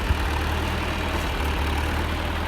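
Steady low rumble of an old 1970 or 1971 tractor engine idling outdoors in a pasture, continuous and even throughout with no talk.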